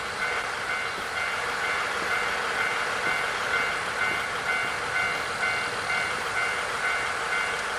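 A train waits at a station in the video game Nostalgic Train: a steady mechanical hum with a regular, quietly repeating chime-like pulse on top, unbroken throughout.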